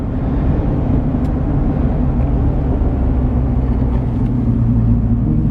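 A tuned 2018 Ford pickup with a 6.7 Powerstroke diesel pulls under load, giving a loud, steady low engine drone and rumble that holds without a break.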